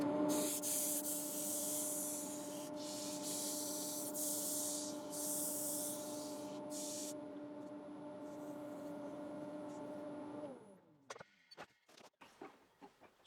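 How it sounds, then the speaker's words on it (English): Sandpaper, up to 400 grit, rubbing against an ash elbow spinning on a wood lathe, a steady close hiss of abrasion over the lathe's hum for about ten seconds, then stopping into a few scattered knocks. "So I'm going to sand the outside here now."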